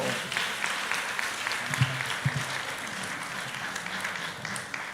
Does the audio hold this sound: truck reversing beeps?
no